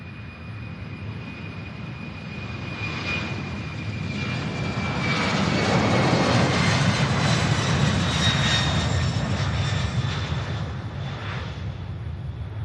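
A 16-year-old Boeing 747-400, four-engined, roars steadily from moderate distance, its broadband engine rumble swelling to a peak midway and holding strong, with a thin whine riding above the roar.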